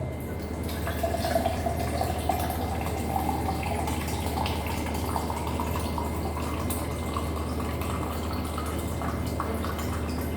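Cold water pours into a jug in a continuous, trickling, splashing stream over a low steady hum, heard alone without any talk.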